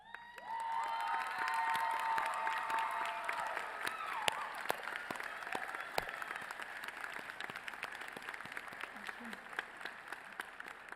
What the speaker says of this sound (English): With the parents of our candidates, please stand and receive our applause.